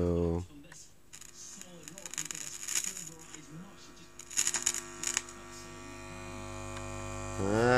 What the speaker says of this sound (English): it's still humming.